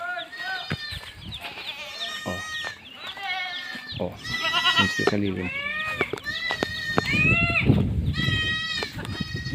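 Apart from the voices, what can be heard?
goats bleating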